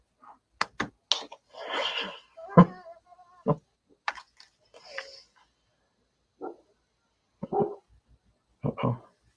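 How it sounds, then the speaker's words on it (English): A dog barks in short, excited bursts, several sharp yelps and barks spread unevenly with pauses between, fairly close and moderately loud, with no talk over them. "Dog's going crazy."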